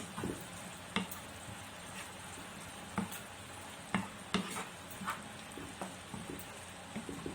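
Chicken and vegetables stirred in a pan on a gas stove, a spoon scraping and knocking against the pan roughly once a second over a steady sizzle, close up with no talking.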